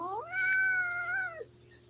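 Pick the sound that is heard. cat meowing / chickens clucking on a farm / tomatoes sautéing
cat meowing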